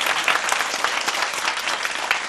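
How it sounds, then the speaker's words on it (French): A studio audience at a children's school competition TV show applauds loudly for a school team, a dense, continuous burst of many hands clapping close by. "On applaudit très très fort."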